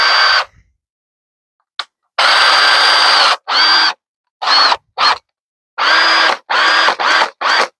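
A Makita DHP/DDF-series cordless drill with a swapped motor, powered by a DeWalt battery, runs in a series of loud whirring bursts of varying length with short silent gaps between them.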